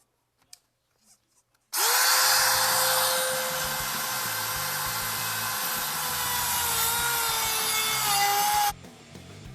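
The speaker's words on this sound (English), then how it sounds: "does anyone know of like some better cutoff wheels for the Dremel?" A Dremel rotary tool spins up with a steady high whine as its cutoff wheel bites into a fitting while plumbing 6AN fuel lines, running loud and continuous for about seven seconds before stopping abruptly, after a few faint clicks.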